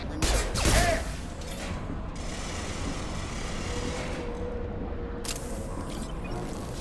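Gunfire crackles in a Mass Effect Legendary Edition firefight: a loud burst of shots near the start, then a rumbling, noisy battle bed and another sharp report toward the end.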